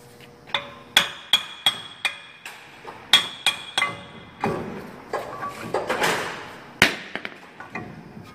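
Hammer blows ring out in a loud, close series of sharp metallic strikes, about a dozen with short uneven pauses, as the spindle is knocked loose from a 2007 Dodge Ram's front suspension in a workshop.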